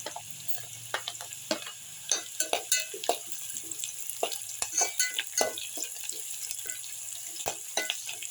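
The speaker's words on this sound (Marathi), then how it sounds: "आता मी लसूण टाकत आहे" Garlic and onion frying in oil for a drumstick (shevga) curry crackle with a steady, close patter of small pops, now and then joined by a spoon scraping the pan.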